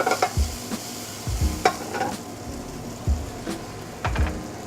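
Vegetables including onions and asparagus are stirred in a hot pan, giving a steady sizzle broken by periodic scraping strokes and soft knocks of the utensil, close and fairly loud.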